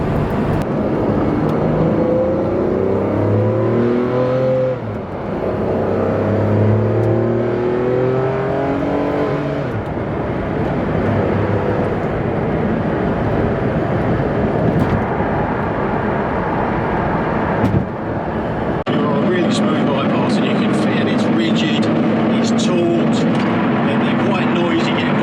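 An Enzo Ferrari race car engine revs and drones loudly with rising and falling pitch sweeps, then settles into a steadier hum; a voice speaks over it.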